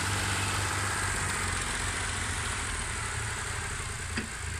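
The engine of a 640 tractor runs steadily while it hauls soil, a continuous loud rumbling drone with a regular low-pitched throb from start to finish.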